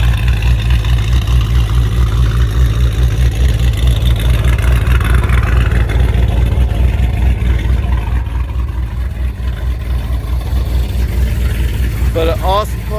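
A warmed-up 2018 Dodge Charger R/T V8 with a Jay Greene cam idles with a deep, loping, choppy rumble, steady and close, while someone talks over it.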